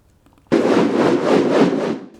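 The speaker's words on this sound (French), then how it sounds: "Tu vois, quand tu prends une corde, tu tournes comme ça là" A rope swung around in circles gives a steady, loud whooshing that pulses in repeated sweeps for about a second and a half, then tapers off, heard alone after a brief quiet start.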